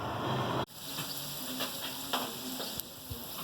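A qeema samosa fries in hot oil, giving a steady soft sizzle with light crackles. An abrupt break comes early, then the bubbling continues, fairly quiet and close, with no voices.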